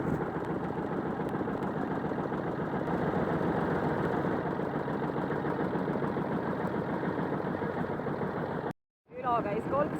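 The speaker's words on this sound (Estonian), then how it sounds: "Traktor on" A DT-20 tractor engine runs steadily at a constant idle-like rhythm, loud and close, before cutting out abruptly near the end, then resuming with a faint squeaky sound.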